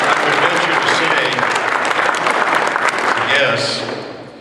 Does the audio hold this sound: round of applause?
yes